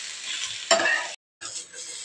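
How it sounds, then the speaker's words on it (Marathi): Ground masala paste roasts in a pan, giving a close crackling sizzle with a louder stirring scrape partway through, a brief silent gap, then the sizzle resumes. "वाटण भाजून घेते मी आता याला।"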